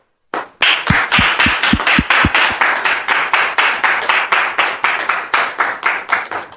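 A studio audience applauds to welcome a guest onto a French talk show, a burst of clapping that settles into a rhythmic, unified beat, loud and close, with no talk over it.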